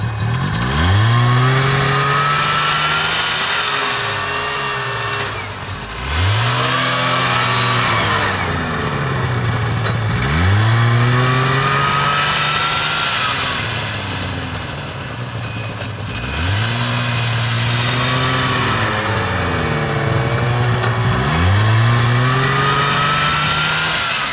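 Ski-Doo Skandic SWT and Yamaha VK540 snowmobiles back up in deep snow, two-stroke engines repeatedly revving up and easing off in a steady rising-and-falling pattern, loud and close throughout.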